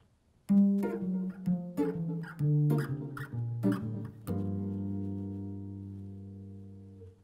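Guitar walking bass line played descending: a clear sequence of plucked single notes stepping downward in pitch, closing on a sustained low note that slowly fades.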